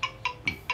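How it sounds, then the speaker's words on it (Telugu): Phone ringtone ringing in short repeated bursts, four bright electronic chirps evenly spaced, close and clear with no voices over it. "ఒక్క నిమిషం, ఫోన్ వస్తుంది."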